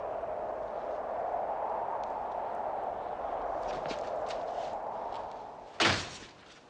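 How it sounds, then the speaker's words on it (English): A door shuts with a single sharp thud near the end, loud and close, following several seconds of steady low hum and faint knocks in an indoor setting. "close the door. It's freezing."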